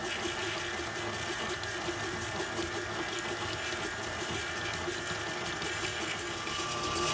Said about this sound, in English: I'm using my stand mixer to help me out